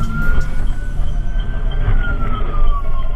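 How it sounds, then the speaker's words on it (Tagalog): Fire truck siren during an airport rescue and firefighting response exercise at the runway end, a loud wailing tone sliding slowly up and down over heavy vehicle engine rumble, near and continuous. "Fire truck arrived on the end of runway 23."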